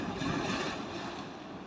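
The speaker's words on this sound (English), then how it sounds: "And I do have the waves here" Sea waves washing onto a shore in Normandy, a steady broad rushing wash, moderately faint and continuous, with no voices.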